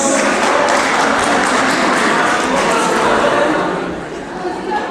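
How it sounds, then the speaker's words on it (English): At a school farewell for Grade XII students, a large audience gives a loud, dense, continuous round of applause with crowd chatter mixed in. It holds steady, then eases slightly near the end. "Give him a big round of applause"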